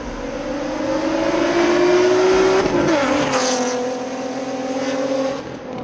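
Loud race car engines roar and rev close by, with a rising tire squeal cutting through midway before the noise eases.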